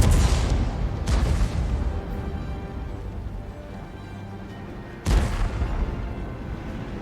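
Heavy booms from a G.W. E 100 self-propelled artillery gun in a tank battle game, three loud reports at the start, after a second and near five seconds, each trailing into rumbling decay.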